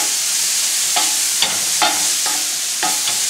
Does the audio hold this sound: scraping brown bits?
yes